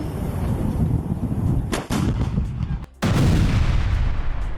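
Heavy mortar fire launched by Hamas fighters at Israeli positions, heard as loud, booming blasts with long rumbling decays, one deep thud near the middle and another strong blast a second later.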